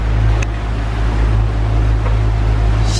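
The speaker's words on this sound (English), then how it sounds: "We're not sailing, we're motoring because the wind is..." A sailboat motoring under engine power at sea on an Atlantic crossing, with a steady low engine drone and hull rumble running continuously and evenly throughout, and a faint hiss of water rising near the end.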